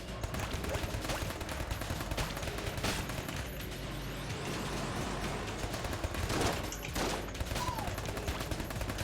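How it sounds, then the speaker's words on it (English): Rapid, continuous bursts of gunfire from a silenced Max 10 in the video game Enter the Gungeon patter steadily throughout, with a few louder impacts standing out against the dense stream of shots. "I got a silenced Max 10"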